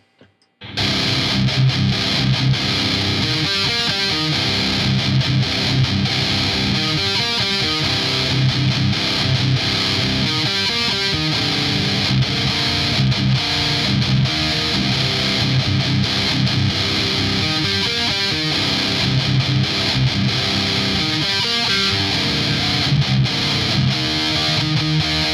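An electric guitar playing metal through a T-Rex Diva Drive overdrive pedal with reverb and delay gives heavily distorted, sustained chugging riffs, loud and steady for the whole passage after a brief silent start, with no voices.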